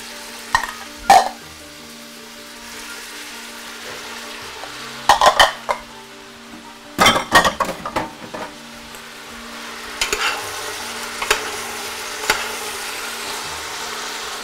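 Vegetables frying in a garlic-laced pan, with scattered spoon scrapes and clinks of stirring over a steady low sizzle, the clatter coming in short bursts and then easing off.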